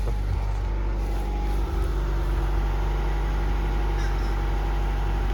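A Honda Integra engine idling with a quiet exhaust, rescued from a junkyard: a steady, even low rumble throughout, close and constant with no misses.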